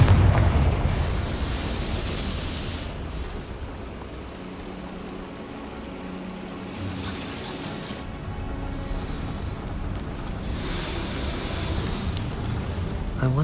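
Rumbling blasts from the Confringo spell in Hogwarts Legacy, a loud booming burst at the start and another near the end, with a low, rolling rumble in between.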